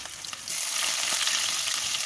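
Onion and a bay leaf frying in hot oil, a steady close sizzle that starts softly and swells to a full, continuous crackle after the ingredients hit the pan.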